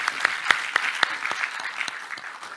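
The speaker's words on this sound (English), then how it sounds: "a clap, everyone. Let's clap." Scattered applause from a small audience at a Flutter developer conference roundtable, a few distinct claps standing out sharply over a softer patter for a couple of seconds.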